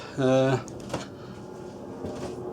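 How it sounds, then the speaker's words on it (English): A drawer swings open and closed in a shed, giving one brief loud creaking squeak followed by a couple of quieter knocks, with a voice present. "So there's a drawer swinging around."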